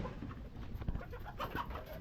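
Poultry birds at feeding time in a farm house, with continuous pigeon-like cooing and clucking close by, steady and moderately loud throughout.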